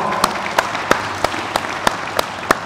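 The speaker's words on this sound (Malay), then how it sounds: "Boleh tepuk tangan untuk dia semua." Scattered, sparse handclaps from a small audience after a child's Quran recitation at a religious talk, about eight distinct claps spaced roughly a third of a second apart over a steady background hiss.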